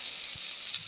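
Potatoes fry in a pan for a traditional Bengali pui shaak chochhori, giving a steady, close, hissing sizzle throughout with no talking.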